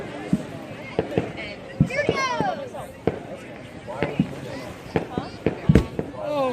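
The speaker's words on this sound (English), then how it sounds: "All right, green flashbang." A green flashbang firework bursts among other backyard Fourth of July pyrotechnics, sharp cracks and pops scattered irregularly through the stretch, with excited voices talking and whooping over them nearby.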